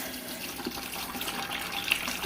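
Steady rushing, gurgling water from a gravel vacuum hose siphoning a betta fish tank, with a soft, continuous trickle close by and no voices.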